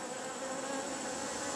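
Dense, steady buzzing of many honey bees swarming close by around a queen they have rejected, continuous and fairly loud with no voices.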